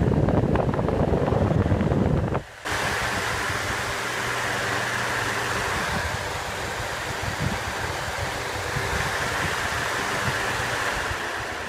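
A salvaged electric fan runs with a slightly unbalanced blade, giving a loud steady rush of air that starts abruptly after a brief burst of other noise and continues unchanged.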